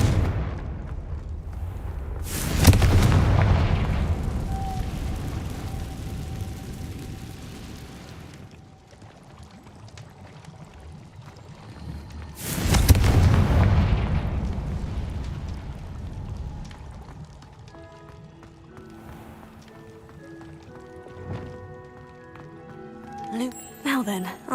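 Two heavy blasts from the Confringo spell in a Harry Potter video game boom out about ten seconds apart. Each hits hard and rumbles away slowly over a quiet ambient bed, with a voice present and faint tones near the end.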